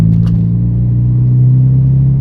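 Toyota Yaris engine droning under acceleration, a loud, steady low-pitched hum with a faint rise in tone, heard from inside the car throughout, alone with no talk.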